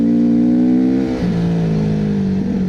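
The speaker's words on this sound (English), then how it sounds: "we're cutting across some gravel roads, hitting a little bit of different stuff today to try the bike out" A GPX Moto FSE 450R motorcycle ridden across gravel roads, its single engine droning loud and close with steady tone and two brief dips where the pitch shifts, no talking over it.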